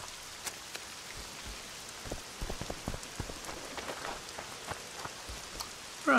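Heavy rain pours down in The Witcher 2: Enhanced Edition, a steady hiss of drops striking surfaces with occasional louder spatters, no talking over it.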